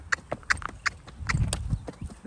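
Hooves of a Tennessee Walking Horse clip-clop in a natural gait, a run of distinct, fairly close hoof strikes in uneven rhythm with a louder low thud near the middle.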